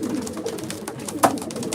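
Racing pigeons coo softly in a loft, a low murmuring warble with one sharper call standing out near the end, close by and without any talk.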